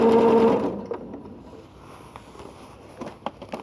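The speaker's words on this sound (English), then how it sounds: "coming down to the corner and keeping on sewing just the same at the moment" A sewing machine stitching the corner of a quilted tote bag hums loudly and close for about half a second, then stops, followed by faint handling noises and a few soft clicks.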